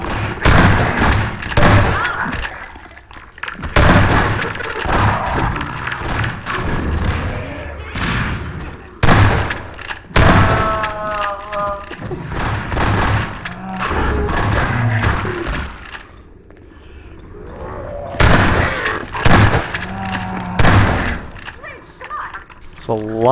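Gunshots from shooting zombies in the video game Half-Life 2: Episode One. Repeated loud thuds and shots pound out in uneven bursts beneath a steady stream of talk, with a short lull partway through.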